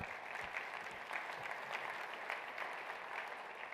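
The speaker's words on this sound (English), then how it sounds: "I'm excited to hear the applause for that as well" Applause from an online business software summit keynote audience, a soft, steady patter of clapping heard at a distance and low in level throughout.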